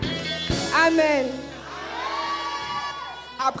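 A church congregation cheers and shouts for joy, a crowd of voices rising in whoops and cries that swell early, hold, then fade, with a sharp burst near the end.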